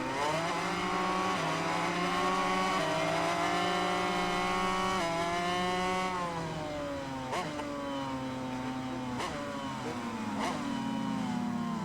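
A racing motorcycle in the MotoGP 21 game winding down under heavy braking, a loud high-pitched engine whine that dips and falls in pitch with quick downshift blips, alone with no talk.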